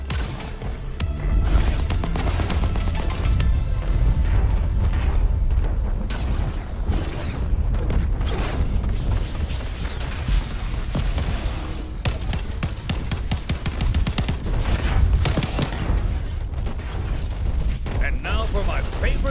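Explosions in the video game Crackdown 3, a dense run of loud booms, crashes and rumbling blasts packed over twenty seconds, with intermittent voices mixed in.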